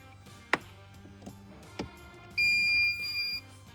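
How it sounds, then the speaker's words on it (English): A Chevrolet key fob programmer plugged into the OBD port gives a loud electronic beep at a steady pitch for about a second, preceded by a couple of short clicks against a quiet background hum. "Once you have it plugged in, it'll do a series of beeps"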